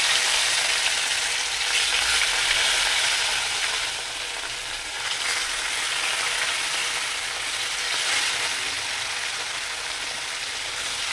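Fish chops frying in hot oil, a dense, continuous sizzle and crackle close up, steady for about eleven seconds with a slight dip midway, no talking.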